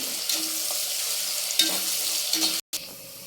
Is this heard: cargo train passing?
no